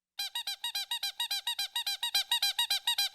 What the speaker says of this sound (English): he finds out that it squeaks, and he becomes attached to that thing like a dog with its chew toy